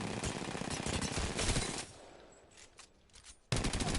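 An RE45 pistol fires on full auto in Apex Legends, a rapid, loud stream of shots for about two seconds, a brief quieter gap with faint clatter, then another burst kicking in.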